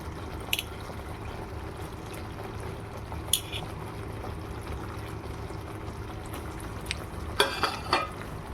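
Fried paneer cubes drop into a spinach gravy in a pan, with a steady low simmer and sizzle throughout, soft stirring scrapes and a few small clattering taps of a spoon against the pan, quiet and close.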